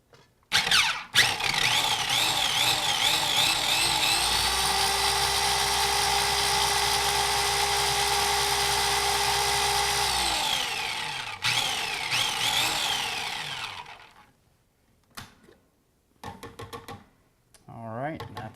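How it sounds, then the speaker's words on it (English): A food processor whirs at high speed as it blends garlic, mint and dill, running loud and steady for several seconds between short pulses, then stopping, with talk around it. "we're gonna whiz this up in the food processor."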